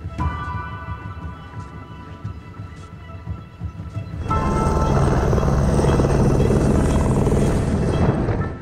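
A helicopter heading out to the Verbier mountains in the Alps to set up avalanche-control gear, its rotor and engine swelling into a steady loud roar partway through after quieter mechanical rumble, with no clear talk.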